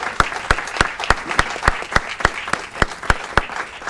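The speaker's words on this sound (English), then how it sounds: "A round of applause for Miss Laura Wagner." Rhythmic clapping at a city council committee meeting, sharp, evenly spaced claps in a steady beat over a light bed of scattered applause, loud and close.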